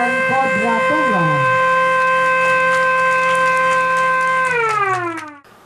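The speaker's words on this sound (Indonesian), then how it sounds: "Dengan penekanan tombol sirine secara bersama-sama dengan Wali Kota Palembang" A siren set off by button at an inauguration ceremony in Palembang rises quickly, holds a loud steady wail for several seconds, then winds down and cuts off.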